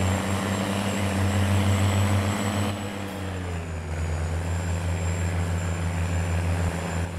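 A large 700-horsepower tracked tractor in Farming Simulator 19 drives at about 75 km/h, its engine giving a loud, steady low drone with a high whine that dips slightly in pitch partway through.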